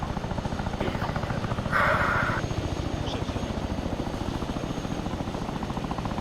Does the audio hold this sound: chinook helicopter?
yes